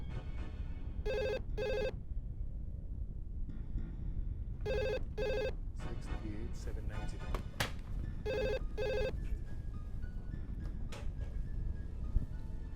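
A telephone rings in three paired bursts, evenly spaced, clear and fairly close, against a quiet room hum.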